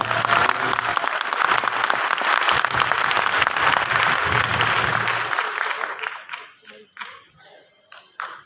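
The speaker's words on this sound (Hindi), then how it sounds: "एक बार और तालियों से इस्तकबाल करें" Dense audience applause fills an auditorium during a live program in New Delhi, loud and sustained for about five seconds before thinning into scattered claps and fading out.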